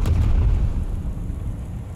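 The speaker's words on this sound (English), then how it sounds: "Taking major hits here off the back cannons" Heavy cannon fire booms and thuds against a ship in the sky-sailing game Worlds Adrift, with dense low rumbling impacts that are loudest at the start and roll on steadily throughout.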